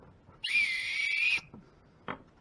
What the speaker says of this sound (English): Oh, it's the whistle.